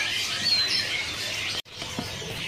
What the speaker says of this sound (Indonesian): untuk di sini juga ada ya stok daripada teledekan mugimaki jantan ini